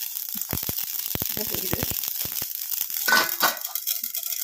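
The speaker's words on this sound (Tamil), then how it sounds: "கடுகு நல்லா பொரிஞ்சிருச்சு" Mustard seeds spluttering in hot oil, a quick run of sharp crackling pops that thins out, followed by a brief clatter.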